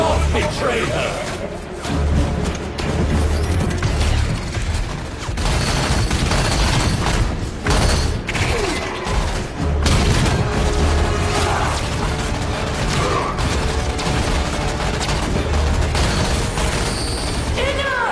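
Rapid gunfire and heavy booms in an intense sci-fi battle, with mechanical clanks and crashes over a dense, loud, continuous roar of combat and music.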